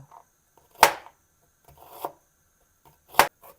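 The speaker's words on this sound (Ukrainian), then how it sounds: "нарізаю цибульку" Three sharp knife chops strike a cutting board at uneven intervals as an onion is chopped, with soft scraping between them, close up in a quiet room.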